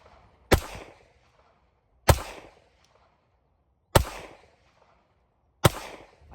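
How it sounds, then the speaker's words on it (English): A CZ75B Omega pistol fires four loud, sharp shots at a target from about 20 to 25 yards, evenly spaced roughly one and a half seconds apart, each ending in a short decaying echo. "Put my ears in real good and take a few shots."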